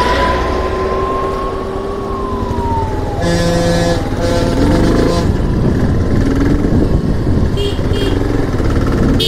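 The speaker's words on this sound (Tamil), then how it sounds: "ஆம்புலன்ஸ் வருது, என்னாச்சுன்னு தெரில." An ambulance siren wails along the Dhimbam hills hairpin road, its tone gently sweeping while wind and motorcycle engine noise roar steadily throughout, with other traffic sounds joining partway through.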